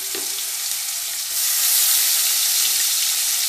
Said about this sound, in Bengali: ফোড়নটা ভাজা হয়ে গেছে, এবার একটা কুচানো পেঁয়াজ রেখেছিলাম সেটা দিয়ে দিলাম।